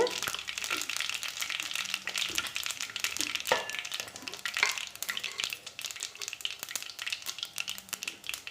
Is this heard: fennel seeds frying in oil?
yes